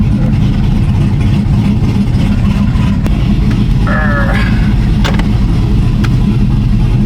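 An LS-swapped Chevy OBS truck engine runs with a steady low rumble, loud and close, with a few faint clicks and a brief higher squeak over the drone.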